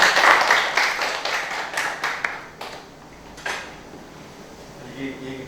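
Members of a high school history club clap at a talk in a dense burst that quickly thins into a few scattered, separate claps, then tapers away into quiet room noise.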